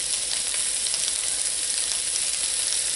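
Sausage fries in a pan with a dense, steady sizzle, loud and close, with no voices.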